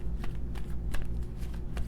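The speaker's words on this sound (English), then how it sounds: "let's get one more shuffle here" Tarot cards riffled and shuffled by hand, giving a continuous soft papery flutter with several sharper slaps across a short stretch, heard close and fairly loud with no talking.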